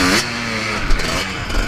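A motocross bike fitted with a new piston for break-in revs sharply while warming up at a dirt track, then drops to a rough, rumbling idle with small blips.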